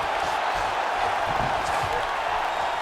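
Arena crowd in the EA Sports UFC 5 video game cheering as fighters return to their feet after a long grappling exchange, a moderate, steady roar with brief swells and faint thumps beneath it.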